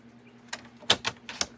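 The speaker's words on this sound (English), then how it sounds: "All right, I'll just cut a 1-inch strip off here." A strip of striped paper is cut for a card, producing a few quick, close, crisp snips and clicks in rapid succession.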